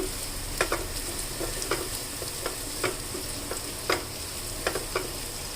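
Prawns fry with chilli powder and coriander powder in a pan, a steady sizzle broken by a series of short scraping stirs with a spoon, close and alone without talk.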